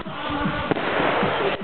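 Fireworks bursting in a continuous dense barrage, with sharp louder bangs standing out near and far over a steady crackling rumble, and no voices.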